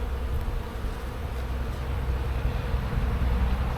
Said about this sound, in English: Nice bees. Some nice bees.